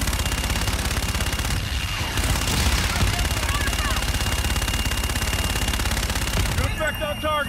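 Sustained rapid aircraft cannon fire during a gun run in Call of Duty Infinite Warfare, a loud continuous rattling burst of gunfire lasting throughout, with radio chatter underneath.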